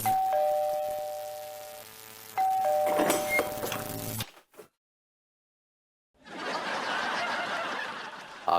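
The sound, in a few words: doorbell ringing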